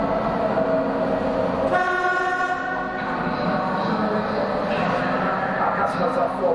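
Docklands Light Railway train on a London line, a steady rumbling hum with a tonal whine and brief horn-like tones, heard from close by under a spoken announcement.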